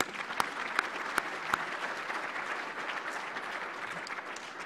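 Steady applause from a crowd, continuous clapping with a few sharper individual claps standing out near the start.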